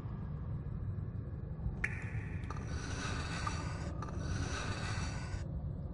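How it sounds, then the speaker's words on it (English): A rod is sharpened in The Black Mirror video game, heard as two short bursts of gritty scraping over a low background hum, each lasting about a second and a half. "I'll try to sharpen the rod a bit."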